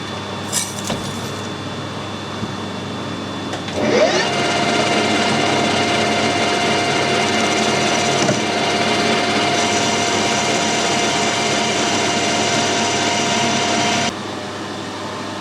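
A mini lathe machining an aluminium pulley hums with a steady, loud motor whine that starts abruptly after a brief clatter, runs unbroken for about ten seconds, then drops off.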